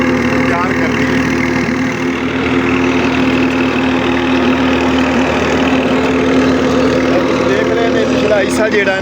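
A tractor engine runs steadily while turning a belt and shaft at a rural Punjab brick kiln. It gives a loud, continuous idling drone with a low mechanical hum and rhythmic vibration, and someone talks over it throughout.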